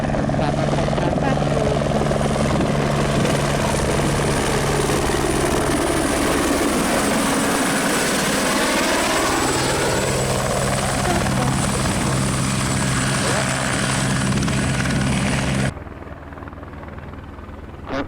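Helicopter arriving at the Brooklands fly-in, its rotor and turbine roar loud and steady throughout, sweeping in pitch as it passes near, then dropping away abruptly toward the end.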